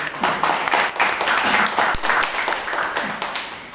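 A seated audience at a book discussion and poetry event claps together in a dense, steady patter that holds for a few seconds before thinning out, with faint talk underneath.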